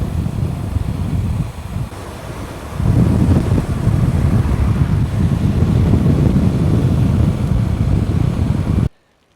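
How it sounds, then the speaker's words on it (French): Heavy microphone wind roar while cycling fast downhill, a loud broadband buffeting that dips briefly, then surges and holds strong before cutting off abruptly. "J'espère que le vent est pas trop gênant dans les descentes"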